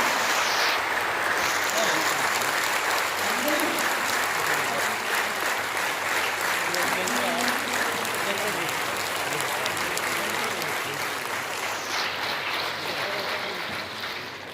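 Sustained applause from a large standing audience welcoming the President at a program inauguration, a steady wash of clapping that fades slightly toward the end.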